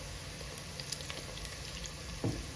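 Whole cinnamon, cardamom, cloves and fennel seeds fry in hot oil in a pan, giving a steady close sizzle with faint crackles and a brief clatter near the end.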